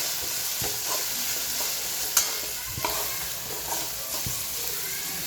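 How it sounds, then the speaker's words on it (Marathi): Salt, turmeric, chilli powder and kasuri methi stirred into hot oil in a pan, producing a dense continuous sizzle with repeated spatula scrapes and a sharp clink near the middle. "मीठ, हळद, मिरची पावडर आणि थोडीशी कस्तुरी मेथी आपण मिक्स करायचे"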